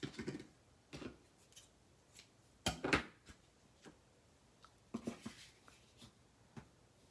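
Scissors snip paper for a handmade one-sheet craft project, giving a few sharp close cuts amid soft handling rustles, with one louder crisp snip near the middle.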